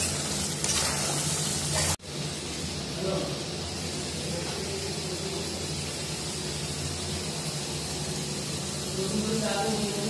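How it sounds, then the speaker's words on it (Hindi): Tomatoes frying with masala paste in a pan while cooking a chicken curry, a steady close sizzle with a brief knock near the start and faint stirring throughout. "टमाटर को भी भूजेंगे।"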